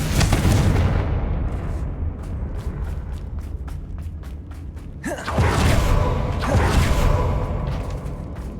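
Confringo fire-blast spells in Hogwarts Legacy go off as heavy booming explosions: a loud blast at the start, rumbling debris in between, then a second big whooshing detonation that trails into crackling noise.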